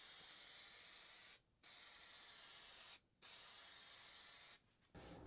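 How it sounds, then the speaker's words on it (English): Adhesive sprayed from an aerosol can onto ring box pieces: three loud, steady hissing bursts separated by short pauses, close up, with no talking. "give it another shot of this adhesive"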